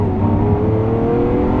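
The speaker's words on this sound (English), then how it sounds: "you know that you're in a fast car, and you know that I just shifted gears" Lamborghini Aventador SV engine held at a steady, loud roar with strong low harmonics, a continuous drone from inside the cabin with no clear break where the single-clutch gearbox shifts.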